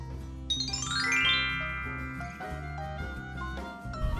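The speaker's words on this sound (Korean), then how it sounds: "누가 초인종을 울렸는데?" A doorbell rings, a bright chiming tone with a rising sweep of tones, followed by lingering ringing notes over background music, with no voices.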